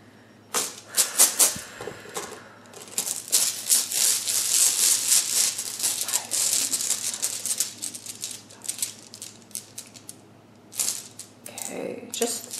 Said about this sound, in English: I'm going to draw you some rune stones as well.